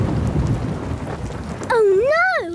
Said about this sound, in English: Oh, no! It's a thunderstorm!